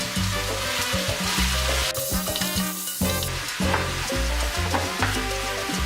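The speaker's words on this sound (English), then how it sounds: "Just while she's cooking all the pork" Pork sizzles loudly and steadily in a hot pan for adobo, a dense close frying hiss with occasional stirring scrapes and no voices.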